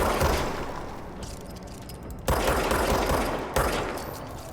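Automatic gunfire in the video game Control, loud rapid bursts in three close sustained volleys, each cutting off abruptly before the next begins.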